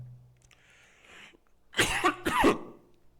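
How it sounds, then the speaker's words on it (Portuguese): Two sharp, close coughs in quick succession after a quiet stretch with faint background noise. "Comecei a tossir, perdão."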